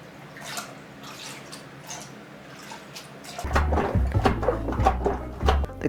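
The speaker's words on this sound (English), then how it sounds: "I also have a bunch of bolts and stuff in here that I want to wash out, make them look new again." Greasy transmission bolts and parts for a Mercedes 300D 722.3 gearbox being washed: quiet dripping and trickling at first, then louder splashing, sloshing and clinking of wet metal parts in the second half, close up.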